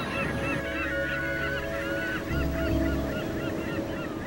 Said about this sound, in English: Nesting fulmars are tucked into every nook and cranny on the jagged cliffs.